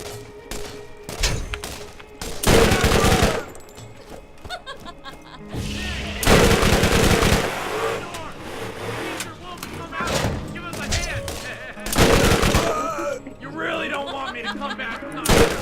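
SMG gunfire in the video game Borderlands, loud rattling bursts of automatic fire repeated several times, with someone talking and chuckling between and over the shots.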